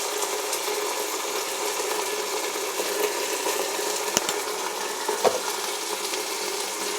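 Ginger garlic paste frying in a pan for jackfruit biryani, giving a steady, close sizzle throughout with a couple of brief stirring clicks and no talking.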